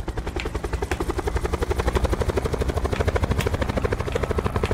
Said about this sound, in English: Get in the chopper quick before the blue zone.